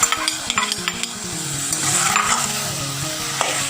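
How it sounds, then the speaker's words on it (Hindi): Fried okra is stir-fried in an onion masala, with a busy crackling sizzle and repeated scraping knocks of a spatula against the pan in a village-style kitchen. "ते हुण इस मसाले प्याज वाले मसाले के भिंडी को अच्छे तरीके भुनाई करनी है।"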